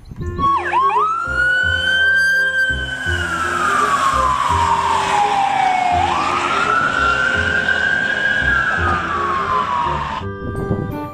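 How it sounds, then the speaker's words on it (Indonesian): A toy ambulance siren wails, sweeping up and down in long, loud glides, close and continuous, with a brief synthetic tone starting and ending it. "Kalau yang ini namanya mobil ambulan teman-teman"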